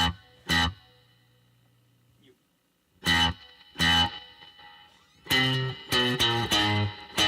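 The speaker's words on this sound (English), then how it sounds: "Can you like go up on the amp and just turn up the spring reverb?" An electric guitar plays through an amp with its spring reverb turned up: a few loud struck chords ring out and splash into a washy, distorted tail, separated by short gaps.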